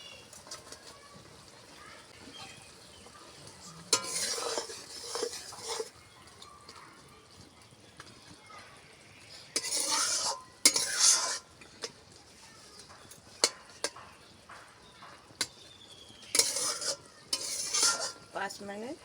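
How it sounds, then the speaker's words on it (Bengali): Fried fish going into boiling water for a thin fish curry with greens brings short bursts of bubbling sizzle and splashing, separated by quiet pauses, with a spoon stirring and clinking in the pot. "জলটা ফুটে উঠেছে, এবার ভাজা মাছগুলো দিয়ে দেব।"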